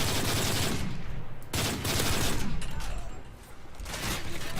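Dense, rapid automatic gunfire and explosive bursts from the video game MW3 Survival, loud and nearly continuous with a short lull, and faint talk beneath the shooting.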